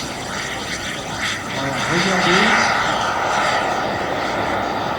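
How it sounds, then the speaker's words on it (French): A kerosene-burning Boeing 727 jet engine builds steadily in loudness during takeoff at Bourg-en-Bresse aerodrome, with a broad rushing hum, while someone speaks briefly over it. "on entend bien le réacteur. C'est un réacteur qui marche au kérosène, comme un avion."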